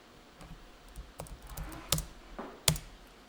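Computer keyboard keys pressed during accounting software data entry, a few sharp isolated clicks spaced unevenly over a quiet background, close and moderately loud.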